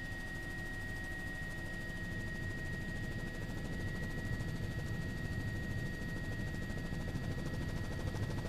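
A helicopter's rotor thumps and drones steadily and loudly throughout, a continuous low churning beat with engine whine above it, at the Oroville Dam spillway.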